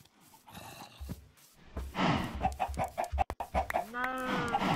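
Chickens cluck repeatedly in a lively, close-up burst of game audio, with rising and falling squawks layered together.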